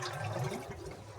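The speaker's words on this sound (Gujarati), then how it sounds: "આ લઈ લીધી આપણે ગાગર ને આ ભરી લેવાનું પાણી" Water poured into a metal gagar pot, a continuous rushing splash that fills the short moment without pause.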